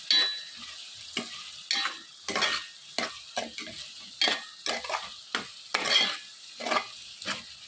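Drumsticks fry in a pan with softened onions for a potato drumstick curry, giving a soft steady sizzle. A spoon scrapes and clacks against the pan in repeated close strokes.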